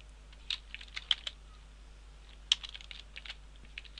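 Computer keyboard typing in short, irregular bursts of close key clicks with a few louder strokes, no voices.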